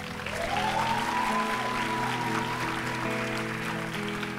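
Applause from the congregation at a church youth service, a moderate, continuous patter of clapping with held musical tones sustained underneath, lasting several seconds.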